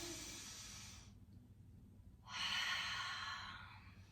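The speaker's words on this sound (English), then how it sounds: "Take one more big breath in." A deep breath drawn in during a gentle yoga session, a soft airy inhale, a pause of near silence, then a longer fuller breath, quiet and close with no talking.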